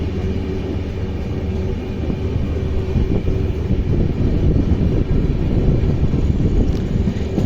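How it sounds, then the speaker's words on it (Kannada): Hassan–Solapur Express train creeping along very slowly, a steady low rumble and rolling noise heard from on board, with wind buffeting the microphone. "ಟ್ರೈನ್ ಟಾಂಗ ಹೋದಂಗೆ ಹೊಂಟೈತ್ರಿ. ಭಾಳ ಅಂದ್ರೆ ಭಾಳ ಸ್ಲೋ ಐತಿ."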